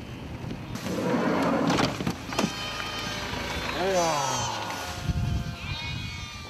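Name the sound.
herd of goats in the Gobi desert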